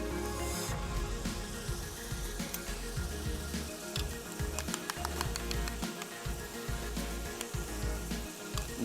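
Yogurt going into a hot pan of tomato masala for bhindi paneer, a steady crackling sizzle with busy spattering pops, close and continuous throughout.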